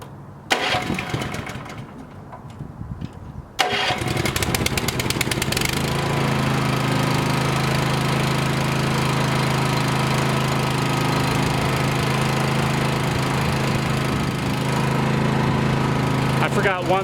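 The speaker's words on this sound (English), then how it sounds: "I'm gonna start the engine back up." A NiftyLift boom lift engine cranks briefly, then catches and settles into a steady, loud, continuous drone with a low rumble that runs to the end.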